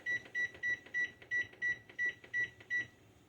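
A series of ten short, evenly spaced electronic beeps, fairly loud and close, from a kitchen timer with a quiet background.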